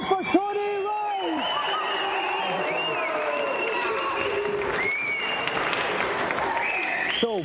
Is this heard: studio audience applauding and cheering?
yes